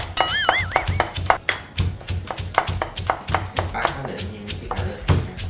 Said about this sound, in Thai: หอมซอยเท่าๆกันหน่อยแล้วกันมันจะเจียวแล้วเหลืองสวยเท่ากันนะ